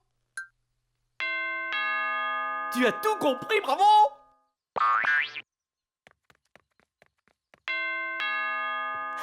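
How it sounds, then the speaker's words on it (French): A door chime on a library door in a French cartoon rings twice with a bright sustained ding tone, separated by speech and a short vocal exclamation, then sounds again. "chaque fois que la porte s'ouvre ou se ferme,"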